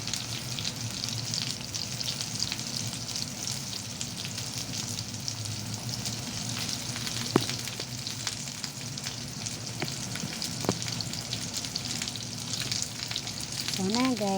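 Fish meat fries in a pan with green chilli, giving a steady, dense sizzle that holds throughout, with faint clinks of chopsticks moving the pieces and no talking.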